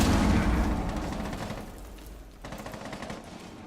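Gunfire rattles in a Rainbow Six Siege match as a loud, rapid burst of automatic shots, then fades into slightly quieter continued firing.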